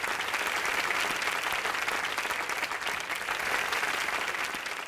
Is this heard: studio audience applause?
yes